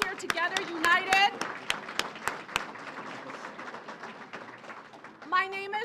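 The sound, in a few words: crowd applause at a union rally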